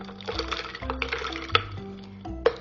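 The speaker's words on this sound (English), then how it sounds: "And stir." A wet marinade of coriander, lemon and lime is stirred in a bowl, giving soft liquid sloshing with a couple of small clinks of a spoon against the side, close and fairly quiet, with no voices.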